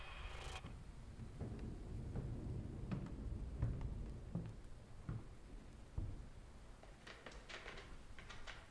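A thunderstorm with steady rain hisses and patters throughout, with low thunder rumbling and several sharper cracks and thuds scattered across the stretch; no voices are heard.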